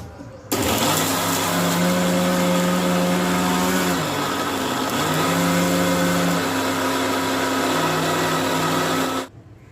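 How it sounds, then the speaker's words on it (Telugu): Mixer grinder whirring steadily for about nine seconds while grinding coconut pieces with green chilli powder, curry leaves and coriander, a loud close motor whine that dips briefly in pitch midway before resuming. "ఇలా 2 to 3 మినిట్స్ మిక్సీ పట్టేసి"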